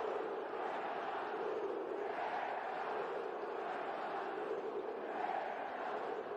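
A sold-out crowd of about 7,500 packs an arena at a Flamengo versus Franca basketball final. The roar is loud and sustained and rises and falls in rhythmic, chant-like swells throughout.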